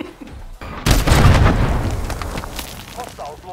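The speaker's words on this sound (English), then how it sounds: "Hostiles launched a cruise missile" A cruise missile detonates in a Call of Duty-style shooter, a sudden loud boom that rolls out into a long fading rumble, with a faint voice near the end.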